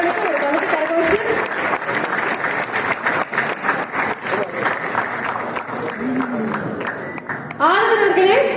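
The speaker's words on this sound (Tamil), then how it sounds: "ஒரு பலத்த கரகோஷம்" An awards ceremony audience breaks into sustained applause, a crowd clapping loudly and continuously, with voices and cheers rising through it toward the end.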